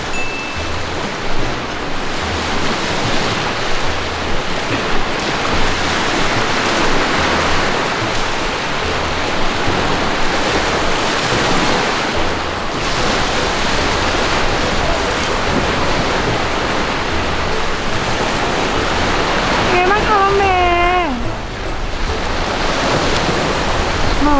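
Sea waves break continuously on the beach at Hua Hin, Thailand, a loud, steady roar of surf mixed with wind buffeting. A brief warbling high-pitched sound appears near the end.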